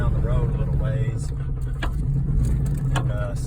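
A pickup truck with a knocking V6 engine drives down the road, a constant low engine and road rumble filling the cab while someone talks over it.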